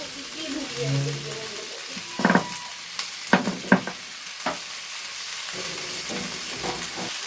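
Crushed ginger and a splash of water hit a rohu fish curry in a pan, giving a steady sizzle with sharp bursts of hissing and spatula scrapes as it is stirred close by.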